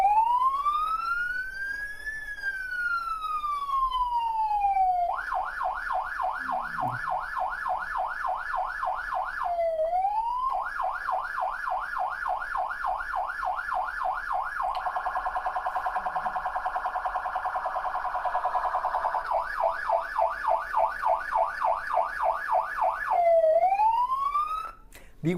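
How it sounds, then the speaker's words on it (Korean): An American police car siren cycles through patterns: a slow rising and falling wail, then rapid yelping warbles and a harsh buzzing stretch, loud and continuous. "미국에서의 자동차, 경찰차의 사이렌 소리는 다르게 들어갑니다."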